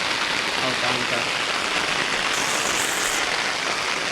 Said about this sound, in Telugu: భారీ వర్షం ఇక్కడైతే పడుతుంది